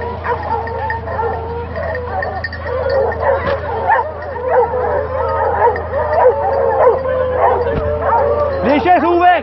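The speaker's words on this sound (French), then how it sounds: "Et le chien est percé, Jordan." Hunting dog barking, yipping and whimpering during a wild boar hunt in the Doubs countryside, a continuous excited stream of yelps and cries close by, with people talking throughout.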